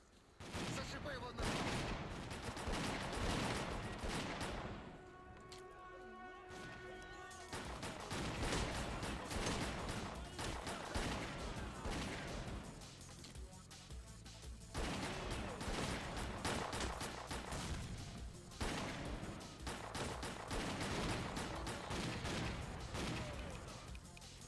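Sustained gunfire bursts and explosions in the video game S.T.A.L.K.E.R.: Clear Sky during a faction battle, loud and dense throughout with a brief lull, continuing under a busy game soundscape.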